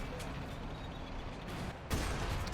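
Artillery and gunfire in the World War II strategy game Men of War: Assault Squad: a dull rumbling battle din with scattered distant shots, then a sharper, louder blast near the end.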